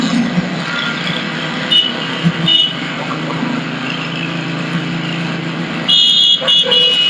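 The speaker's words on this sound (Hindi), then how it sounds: "कॉल क्वालिटी को टेस्ट करने के लिए मैंने अपने सराउंडिंग में कुछ इस तरह की आर्टिफिशियल ट्रैफिक नॉइस क्रिएट की हुई है।" Artificial traffic noise plays nearby for an earbud call quality test, a loud continuous road rumble of passing cars with scattered horn toots, brightening and honking more sharply toward the end.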